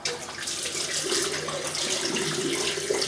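Running tap water pours steadily and close over a lathered shaving brush as it is rinsed, a bright continuous splashing with no voices.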